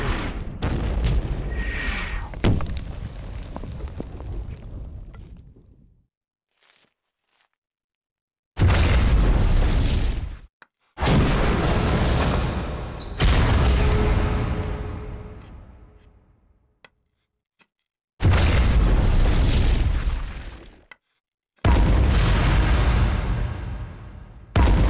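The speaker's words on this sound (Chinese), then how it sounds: "我在记录鬼子的炮击密度。" Artillery shelling in a Korean War battle film, with repeated loud booming explosions in separate bursts, each rumbling and fading away, between stretches of near silence.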